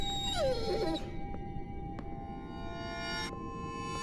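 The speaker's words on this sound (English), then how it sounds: "I swear, that dog doesn't shut up!" A dog in the horror game Layers Of Fear gives a drawn-out, wavering howl-like whine that falls in pitch, followed by a few faint knocks over a steady low ambient hum.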